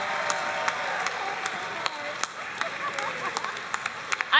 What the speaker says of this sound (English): Can we get a round of applause for all the novices that we have seen?